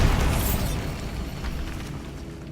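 A Bombarda spell detonates in Hogwarts Legacy, a loud boomy blast that opens the clip and rumbles down into a decaying low roar over about two seconds, with no voices.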